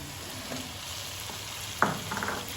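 Tinda pieces and long-cut green chillies frying in masala for tinda gosht, a steady close sizzle with a sudden scrape and clatter of stirring near the end, no talk.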